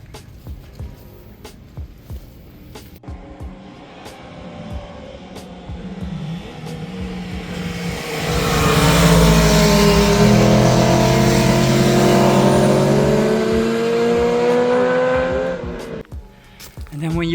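Race cars on the Nürburgring roar past out of sight beside the track, with a distant engine drone swelling into a loud passing whine with tire noise before fading away, while a person talks nearby.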